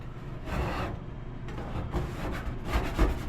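Close, gritty scraping of a metal scraper over a greasy commercial food truck hood, in repeated short rasping strokes of uneven loudness.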